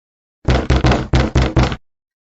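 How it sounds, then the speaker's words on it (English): Six quick, loud, close knocks on a door in an urgent, slightly uneven rhythm, with nothing else around them. "Lin Xiu heard an anxious knocking on the door while dreaming."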